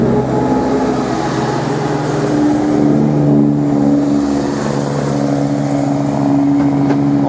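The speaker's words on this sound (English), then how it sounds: "we got 17208, accelerating away, working the 1638 service to Cambridge" Locomotive 17208 pulls away from Norwich station on a service to Cambridge, its diesel engine a loud, steady droning rumble with strong humming tones held throughout.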